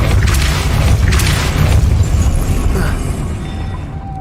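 Depulso spell cast in the video game Hogwarts Legacy, a loud heavy boom with rumbling impact that fills the moment and slowly fades out, no talking over it.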